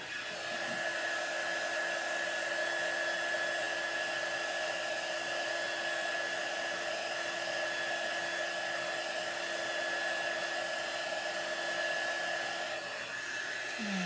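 A hair dryer runs steadily on a craft gift box, a loud close whooshing hum with a constant whine that holds unchanged for the whole stretch, no talking.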